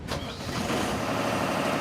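Aerial work platform engine, a mobile elevating work platform, cranking and restarting with a short burst at the start, then settling into a steady, fairly loud running rumble close by.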